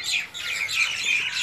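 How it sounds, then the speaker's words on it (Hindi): Village birds chirp and tweet in a busy, overlapping chorus of bright, quick calls, steady and fairly close for the whole stretch, with no voices present. "यहाँ शांत माहौल होता है और पक्षियों की चहचहाट मिलती है।"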